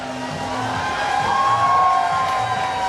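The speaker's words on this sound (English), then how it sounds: "Listen to this crowd." Crowd lining the Stonewall Pride Parade in Wilton Manors, Florida cheers and whoops, a sustained roar with shrill shouts and whistles that swells in the middle.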